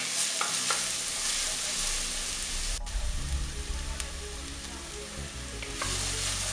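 Onion and garlic sautéing in a pan for baked lasagne, giving a dense, continuous sizzle with occasional spoon scrapes and one sharp clack near the middle.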